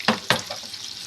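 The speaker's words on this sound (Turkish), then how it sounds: "Evet bu şekilde köftelerimi kızartacağım arkadaşlar." Meatballs sizzle and spatter in a hot pan, with two sharper bursts near the start over a continuous frying hiss.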